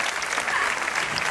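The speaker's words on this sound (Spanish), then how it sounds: "Venga, aplauso, aplauso." Steady applause from an audience cheering Lolita, a talking parrot at a show, a continuous even wash of clapping throughout.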